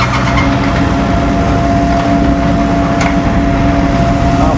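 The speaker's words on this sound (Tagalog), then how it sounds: "Hindi pa mamatay ng makina." A vehicle engine drones loudly and continuously as it strains up a steep mountain road, a heavy steady rumble with little change in pitch and some rattling noise on top.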